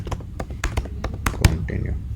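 Quick irregular keystrokes on a computer keyboard while a Java class name is entered, close and fairly loud, the taps clustering in short bursts with a brief pause near the end.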